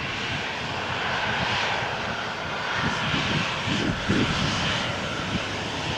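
A Singapore Airlines Boeing 777 jet at Malaga Airport on a stormy morning gives a continuous rumbling engine drone at moderate distance. Low throbbing swells pulse through the middle of the stretch.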